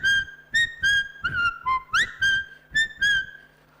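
Someone whistles a clear, close melodic tune in about ten short rhythmic bursts, one of them sliding upward, with no talk over it.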